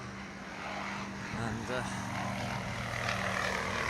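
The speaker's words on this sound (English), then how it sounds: "a few aeroplanes coming in today" Light aircraft arriving at a small airfield under a low cloud base, a propeller engine droning steadily at a distance with a faint voice briefly over it.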